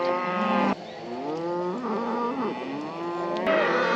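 Cows whose calves were just weaned moo loudly and continuously while following a truck, several overlapping bellows with rising and falling pitch, close by.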